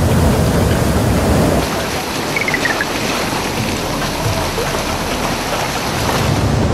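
Ocean waves surging and washing in a broad, loud roar, swelling then easing slightly before building again, mixed with gusting wind buffeting the microphone, with no voices.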